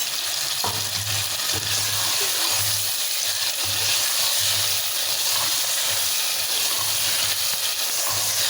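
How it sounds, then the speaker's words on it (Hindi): Loud, steady sizzling of chicken with red chili frying in a pan for a Kachnar gosht, a dense continuous hiss with occasional stirring scrapes and a low pulsing hum underneath. "अब आपने चिकन को अच्छी तरह से भूनना है"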